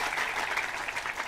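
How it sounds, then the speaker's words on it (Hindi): Audience applause at a spiritual katha gathering: a steady, dense wash of clapping from a crowd, sustained evenly throughout with no pauses and no talking over it. "वाह भाई, ताली बजाओ एक बार जोरदार से।"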